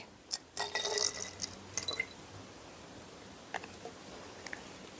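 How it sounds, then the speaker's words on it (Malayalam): Rose water poured into a homemade skin moisturiser mixture gives a short trickling splash early on, followed by quiet scattered drips and small liquid sounds. "അത്രയും തന്നെ റോസ് വാട്ടറും കൂടി എടുക്കാം അതും കൂടെ നമുക്ക് ഇതിലേക്ക് ഒഴിച്ചു കൊടുക്കാവേ"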